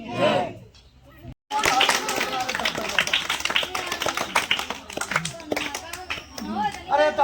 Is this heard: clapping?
yes